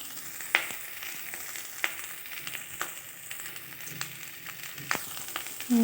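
Cumin seeds tempering in hot oil for a paneer dish, a close, continuous crackling fry with scattered sharp pops, heard alone without speech.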